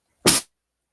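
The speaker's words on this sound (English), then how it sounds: "I just got attacked by a sneeze" A single short sneeze, quiet and abrupt, lasting a fraction of a second against silence.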